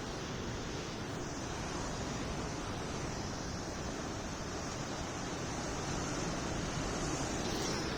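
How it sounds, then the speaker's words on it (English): Ocean waves wash against the shore in a constant broad roar, mixed with buffeting wind across the microphone, loud and unbroken throughout. "I don't know if you can hear the waves."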